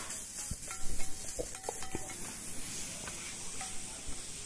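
Scarlet gourd (kovakkai) pieces sauté quietly in a pan with a faint hiss, broken by intermittent clacks and scrapes from stirring.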